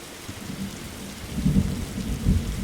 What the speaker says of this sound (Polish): Ej, bo burza jest.